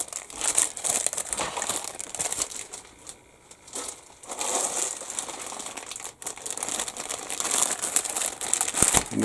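Plastic bags holding the sprues of an AFV Club 1/35 U.S. Army Gun Truck King Cobra model kit crinkle loudly and continuously up close, with brief pauses and bursts of rustling as they are handled, no talking.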